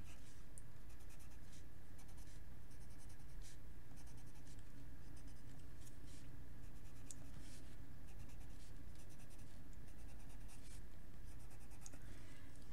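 Gel pens scratching over paper while coloring a background and gems, in gold metallic, gold glitter and chartreuse shades; steady close scribbling strokes with a continuous soft scratchy texture, no talking.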